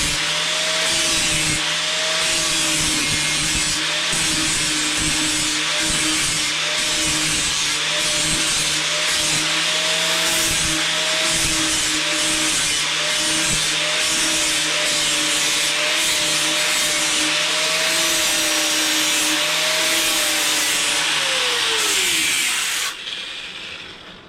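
A grinder works steadily on the weld of a hidden tube join, giving a loud, close abrasive whine with a sustained motor tone and rough scraping texture, then spinning down near the end.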